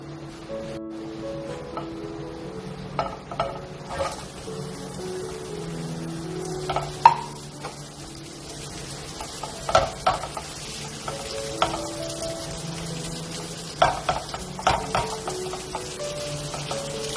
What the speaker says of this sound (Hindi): अब हमने पैन में सिर्फ 1 टेबल स्पून के करीब ऑयल डालना है, और जो हमारी ये सब्जियां हैं हम इसको सौते करेंगे सबसे पहले।